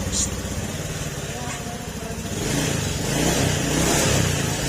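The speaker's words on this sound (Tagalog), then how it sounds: "Yan, tahimik na uli yung makina niya" Honda Beat FI scooter engine running steadily after a valve clearance adjustment, a continuous low hum close by that swells slightly louder toward the end, with someone talking over it.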